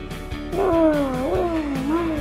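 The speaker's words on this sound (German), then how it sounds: "Das ist der Kater." A male cat lets out a long, rising and falling meow up close, drawn out into a second wavering cry over a low background murmur.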